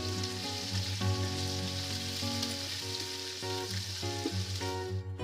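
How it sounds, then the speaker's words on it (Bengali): Chopped onion with ginger-garlic paste frying in hot oil for pilau, a continuous dense sizzle close by with faint stirring clinks, no talk. "এবারে এগুলোকে তেলে খুব ভালোভাবে ভেজে নেব।"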